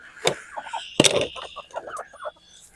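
Chickens cluck in short, choppy bursts nearby at a new feeder, with a couple of sharper taps or pecks mixed in.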